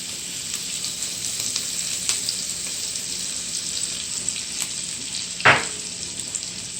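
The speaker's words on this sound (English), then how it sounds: "So you're gonna put the scallion and the garlic in" Scallion and garlic sizzle steadily in hot butter in a pot, a continuous broadband crackle with one sharp clatter near the end, no voices.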